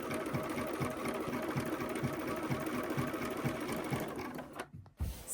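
Sewing machine running steadily while stitching a quilted wall hanging, a fast even mechanical chatter that continues for several seconds, then stops abruptly near the end.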